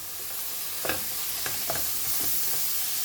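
Chopped tomatoes and peppers frying with onions in a pan for a chicken wing and egg bhuna, a steady close sizzle broken by a few sharp stirring scrapes, with no voices.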